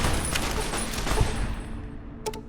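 Dense video-game gunfire in Fallout: New Vegas, a loud continuous fusillade of overlapping shots that gradually thins out, with a couple of sharp reports near the end.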